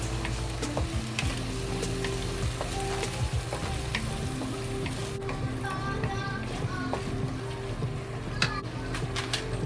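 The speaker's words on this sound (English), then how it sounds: "You can add soy sauce, just 1 tablespoon soy sauce." Pork and potatoes fry in a pan with a tablespoon of soy sauce. The sizzle is steady, close and loud, with occasional small ticks and clicks throughout.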